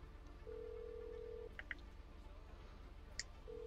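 In-game phone dialing in GTA Online: a sustained electronic tone followed by a few short beeping key presses and clicks, fairly faint and clean with no speech over it.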